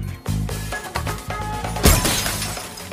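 A stone smashes a car window, with a sharp burst of shattering glass near the end, preceded by rhythmic mechanical thumps and clatter; loud and close, with no talking.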